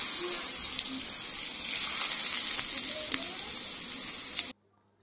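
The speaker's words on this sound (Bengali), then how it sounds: "সব কিছু দেওয়া হয়ে গেলে 1 কাপ তেল খুব ভালোভাবে গরম করে এটার মধ্যে দিয়ে দেব" Hot oil poured over pepper, garlic and sugar for a momo sauce gives a steady, fairly quiet sizzle with small crackles, stopping abruptly near the end.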